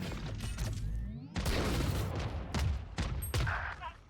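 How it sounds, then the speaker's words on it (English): Missile launches in Valorant burst out as a series of loud booming blasts with rushing whooshes, several distinct hits over a few seconds, mixed with game sound effects and some talk. "All missiles away."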